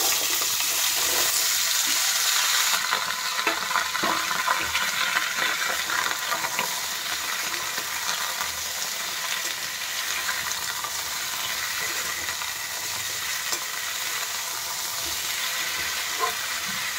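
Potatoes fry in hot oil in a pan already holding reddened kandori for a saloni dish, making a loud, steady sizzle that fills the whole stretch with no one talking.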